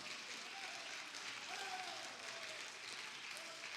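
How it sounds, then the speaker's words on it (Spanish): Church congregation applauding during an evangelist's sermon in Houston, Texas, a steady, fairly soft spread of clapping from the room with faint voices and a few shouts mixed in. "De un aplauso fuerte."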